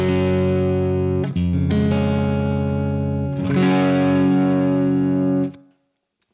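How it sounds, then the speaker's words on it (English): Electric guitar through a BT PT50 pedal, single coil pickup with the volume rolled back for a clean tone: sustained ringing chords shifting a few times, then fading out, with no talking. "I could just use the single coil and roll off the volume a bit to achieve some nice sort of clean tone"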